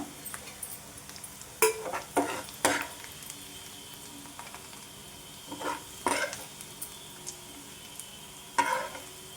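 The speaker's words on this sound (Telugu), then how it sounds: "ఉల్లిపాయలు ఇలా వేగితే సరిపోద్దండి" Onions frying in oil in a pan for a Telugu ivy gourd onion curry, with intermittent bursts of a utensil scraping and stirring over a quiet, continuous sizzle, with no talking.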